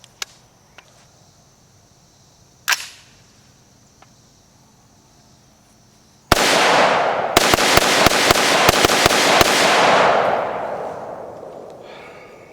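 Barnes Precision CQB SBR short-barreled rifle firing 55-grain Defender rounds: a few scattered sharp shots, then a rapid string of about ten very loud cracks echoing outdoors amid faint insect chirping.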